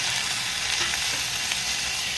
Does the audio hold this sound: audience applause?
no